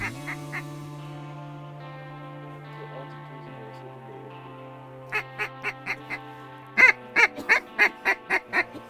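Geese honk and mallard ducks quack at dusk during a waterfowl hunt. Repeated honks grow louder and more frequent near the end, over a low steady hum, with some human voices present.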